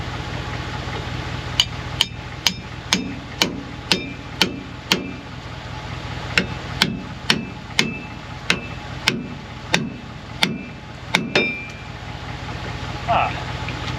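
Sharp metallic hammer blows strike a bearing tool on a 2013 Ford F-150 wheel hub, about twenty close, evenly paced hits in two runs with a short pause between, over a low steady hum.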